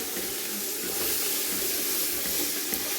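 Onions frying in a pan give a steady, close, hissing sizzle that holds at an even level throughout a few seconds.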